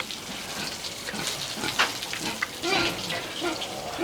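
Water sprays and splashes steadily from a hose at a piggery as pigs are bathed, a continuous close wash with scattered splatter bursts and faint animal sounds underneath.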